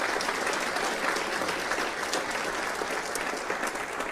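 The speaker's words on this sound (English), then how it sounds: "let's give them a big round of applause" A big round of applause from an audience at a city address in a new Elks Lodge, steady dense clapping that fills the whole stretch at an even, moderate level.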